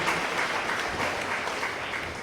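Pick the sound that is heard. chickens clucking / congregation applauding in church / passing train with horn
congregation applauding in church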